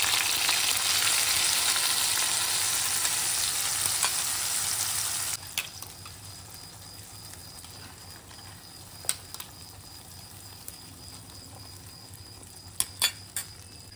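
Strong, dense frying hiss from a cumin and curry leaf tempering for a peanut amti, which drops sharply as the ground paste goes in. A quieter simmer with scattered clicks and spoon taps follows, close by with no talk.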